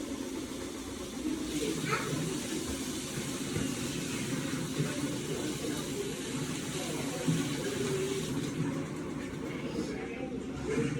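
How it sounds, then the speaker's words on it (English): A running tap pours into a sink while hands are washed under it, a steady splashing flow heard from nearby with low background rumble. "Let me just wash my hands real quick."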